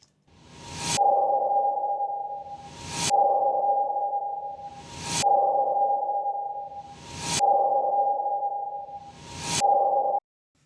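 Five sonar pings ring out at even intervals, each preceded by a short rising swell, then a bright hit that trails off in a long, clean tone.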